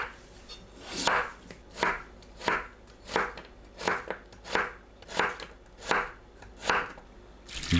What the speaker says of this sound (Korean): 감자를 채 썰어 주세요.